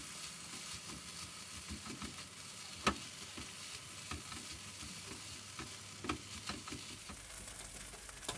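Cooked eggs are stirred into fried rice in a pan, a faint steady sizzle under scraping and clinking of the utensil against the pan, with no talking.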